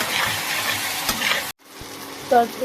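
Spice paste frying in oil in a pan for a small-shrimp kofta curry, a steady sizzle with stirring scrapes, cut by a brief silent gap before the frying resumes near and moderately loud.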